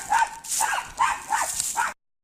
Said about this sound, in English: Because the dogs are making so much noise